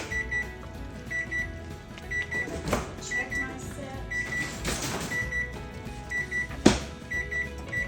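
A microwave oven beeps repeatedly in short pairs, with kitchen clatter and a voice speaking briefly in between.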